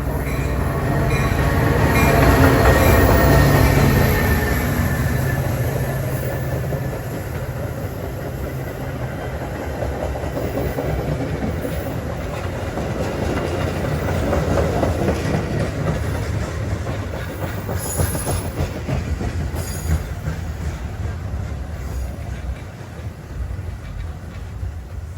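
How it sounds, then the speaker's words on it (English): A Union Pacific West Line commuter train pulls into Lombard station, a loud, continuous low rumble with rolling wheel clatter and faint high squeals that builds and then eases as the train slows. "UP West train number 45 to Lombard is now arriving."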